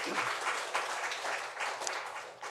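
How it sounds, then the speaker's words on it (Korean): A church congregation at a Sunday service claps together in a dense, steady round of applause that lasts throughout, with no talking over it. "우리 하나님께 영광의 박수 올려드립니다"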